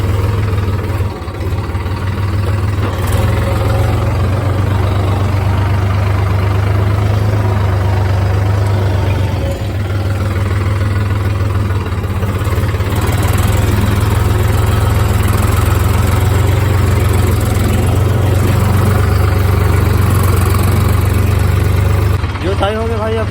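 A tractor engine drones steadily while levelling a ploughed field, a loud, constant low rumble with faint mechanical rattle that runs the whole time without a break.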